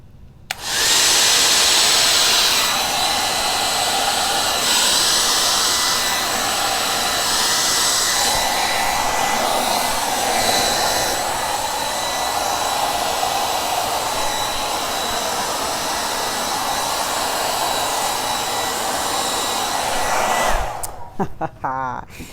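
A hair dryer blows acrylic paint around a Dutch pour, running as a loud, steady, close whoosh with slight shifts in tone as it moves, then clicks off at the end.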